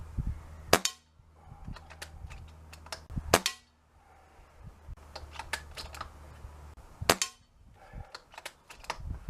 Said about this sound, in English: the first 2 shots will be dead centre